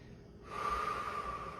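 A single deep breath drawn in during a full-body stretching routine, a short hiss of air that swells and holds, close and fairly quiet.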